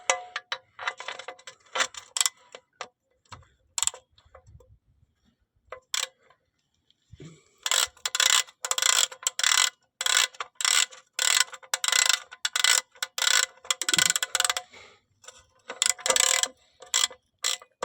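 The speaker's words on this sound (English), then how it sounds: "Then you want to take your ratchet." Ratchet tightening a car oil filter during a DIY service: scattered clicks at first, then after a pause, long runs of rapid, close ratcheting clicks in repeated bursts, with no talk.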